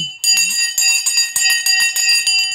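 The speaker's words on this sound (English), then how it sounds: "we've just rung the bell to make sure that everybody's aware that the bell has now gone" A stock market opening bell rings in rapid repeated strikes, a bright continuous clanging that is loud and close, alone without talk.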